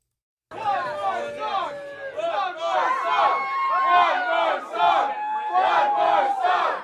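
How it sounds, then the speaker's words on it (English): A live metalcore concert crowd at a Toronto club chants loudly in a rhythmic, repeated shout, the massed voices rising and falling in regular bursts close to the mic. "I'm glad they didn't mute the crowd."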